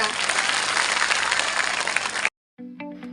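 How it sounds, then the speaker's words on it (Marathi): Loud, dense applause from a crowd of women at a women's gathering in Nagpur, sustained for about two seconds, then cut off and followed by a brief musical tone. "तुम्ही स्वतःच एकदा जोरदार टाळ्या वाजवून कौतुक करा"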